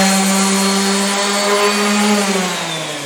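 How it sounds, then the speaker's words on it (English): A rotary sander works on wood, a steady close whir whose pitch sags slightly as pressure changes, then trails off a little toward the end, with no talk. "When you use this type of sander, it's not as critical which direction you sand because it is spinning in a circle."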